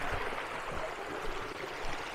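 A gentle, clear stream flows steadily over stratified rocks at Santa Rita Hot Springs in Baja, Mexico, a soft continuous rushing hiss with faint low gurgles.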